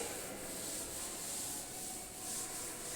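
A classroom board is wiped clean with steady rubbing strokes, a continuous soft scraping hiss that swells and fades slightly over a few seconds with no voices.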